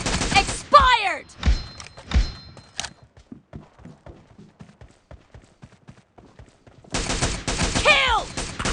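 Bursts of automatic rifle fire in a PUBG team deathmatch, rapid clustered shots at the start and again near the end, with quieter scattered thuds and game sounds in between.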